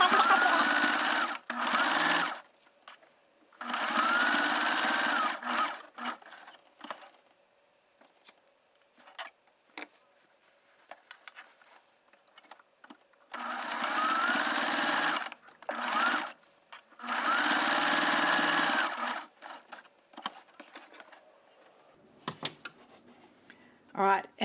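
A sewing machine stitches the sides of a selvage snap bag in several loud, steady bursts of whirring with quiet gaps between them, close up.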